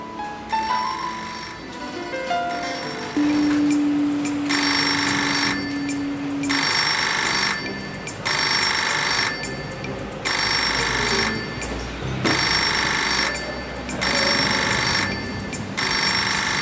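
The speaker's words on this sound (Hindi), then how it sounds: "तुम्हारा फोन बज रहा है।" A phone rings with a loud, repeated electronic ringtone in regular bursts, preceded by a few softer tones and a brief sustained note, with no talking over it.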